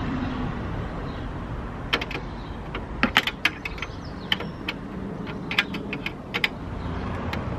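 Fittings on a Ford Fiesta ST180 bonnet gas strut are tightened by hand, giving faint scattered metallic clicks and ratcheting ticks over a quiet, even background hum.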